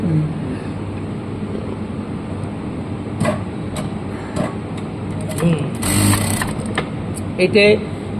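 A lockstitch industrial sewing machine stitches fabric with a steady mechanical whir and ratcheting clatter that picks up briefly near the end, under continuous talk from a person nearby.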